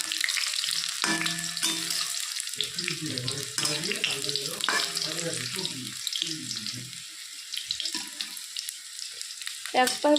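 Crispy taro leaf fritters sizzle in hot oil after being flipped to fry the second side, a steady crackling hiss with brief bubbling bursts throughout.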